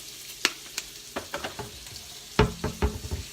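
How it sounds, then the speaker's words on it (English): Bacon cooking in a pan, with a soft background sizzle broken by a few sharp pops and spatters, close by and with no talking. "we have our bacon cooking"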